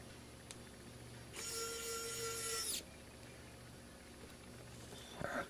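An ARROWMAX precision electric screwdriver whirs for about a second and a half as it drives a screw, a steady high motor whine standing out against a quiet workshop background, followed by a faint click.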